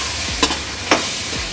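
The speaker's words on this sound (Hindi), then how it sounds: "और इसे अच्छे से मिक्स करना है।" Paneer masala with pizza sauce being stirred in a hot pan, a constant close sizzle with two quick scraping strokes of a spoon, no voices.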